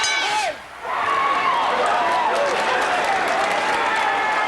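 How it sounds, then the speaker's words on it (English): A hometown crowd at a kickboxing fight, Don Wilson against Dennis Alexio, roars and cheers loudly and continuously, with whoops and applause swelling after a brief lull. "I would say the crowd is enjoying this"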